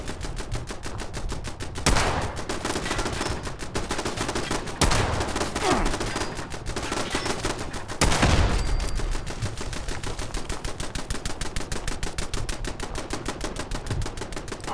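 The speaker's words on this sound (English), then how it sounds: "there's something with that machine gun turret that is making it continue to make the firing" A machine gun turret in Fallout 76 fires continuously, a fast even stream of close, loud shots running throughout with a few heavier bursts and brief swells, with no talking.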